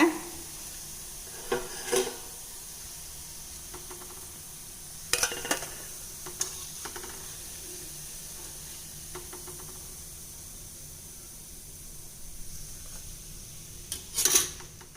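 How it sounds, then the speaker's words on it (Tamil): Soya chunk kola balls fry in hot oil with a steady, soft sizzling hiss, broken now and then by faint clinks of a utensil against the pan. "இப்போ நம்ம எல்லா உருண்டைகளையும் இதே மாதிரி பொரிச்சு எடுத்துடலாங்க."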